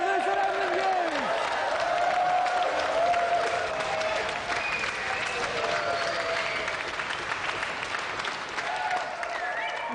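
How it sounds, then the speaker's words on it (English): Studio audience applause for the winner and loser of a televised video game contest, loud sustained clapping with some cheering and voices mixed in throughout. "let's have another round of applause"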